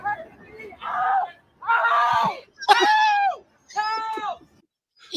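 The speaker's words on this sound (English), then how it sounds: "That dude, that fantastic scream, that yell" A man at a sports event lets out a series of loud, excited, strained yells and screams, several long bursts separated by short gaps.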